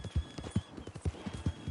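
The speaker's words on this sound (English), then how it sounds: "this aspect of the game where I'm horse riding" Horse hooves pound in a quick, steady gallop rhythm while riding in the Red Dead Redemption 2 video game, close and prominent with little else around.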